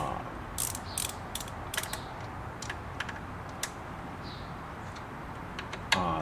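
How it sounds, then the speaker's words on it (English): The hook mechanism of a Singer Heavy Duty sewing machine turns with a run of irregular small clicks and metallic ticks over a soft mechanical whir, close up and fairly quiet, ending in a slightly louder rattle. "as you see the machine turning the correct direction, it's always pushing against that, so it pulls the loop around"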